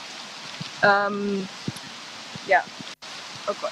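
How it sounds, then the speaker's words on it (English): Heavy rain pours down outdoors at a garden composting site, a steady wash of hiss running throughout, with a few short spoken words over it. "it's raining a lot"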